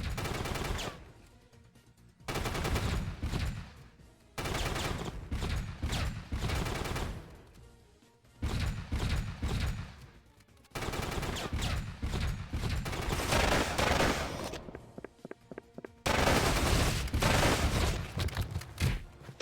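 Bursts of heavy gunfire from a big gun in the video game Pursuit Force, several long volleys broken by short pauses, fairly quiet overall and with no speech.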